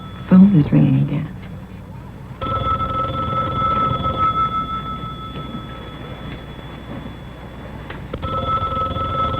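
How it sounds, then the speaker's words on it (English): An old telephone bell rings repeatedly in a room on a 1964 TV circus drama, steady ringing running underneath a burst of voices and a busy background. "My phone is ringing again."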